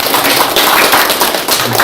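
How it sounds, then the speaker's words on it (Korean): Applause from an audience at a Korean party members' meeting in Daegu, a dense, steady wash of clapping that fills the whole short moment, loud and close. "박수 좀 해주세요"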